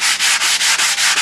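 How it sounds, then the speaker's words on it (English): Sandpaper rubs briskly over a sealed finish coat on a model aircraft, in steady back-and-forth strokes of about six even passes, loud and close with no talking. "So now we just have a thing where we'll spend about 10-15 minutes sanding this down."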